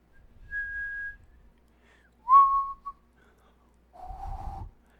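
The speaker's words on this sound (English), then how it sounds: "Yeah, like that. That's whistling." A person whistling three short separate notes with pauses between: a steady held tone, then a quick rising slide, then a lower wavering tone, close and clear with faint breath noise.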